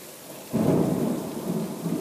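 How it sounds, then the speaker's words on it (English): Steady rain falls in Gainesville as a sudden loud rumble of thunder breaks in about halfway through, then rolls on beneath a continuous hiss of rainfall. "It's raining in Gainesville."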